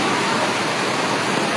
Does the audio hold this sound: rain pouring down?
yes